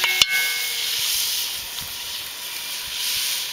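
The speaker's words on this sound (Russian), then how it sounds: "Поджариваем." Food sizzling and hissing as it fries in a cauldron (kazan) over heat, a loud steady sizzle with a brief clatter at the start and no talk.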